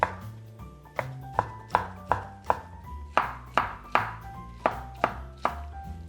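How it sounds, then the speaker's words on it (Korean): A knife on a cutting board slices rolled egg crepe into thin strips for kimbap, making a steady series of about a dozen crisp, evenly spaced chops, close and distinct, with no talking. "말아가지고 요거는 가늘게 채 썰어야 되더라고요"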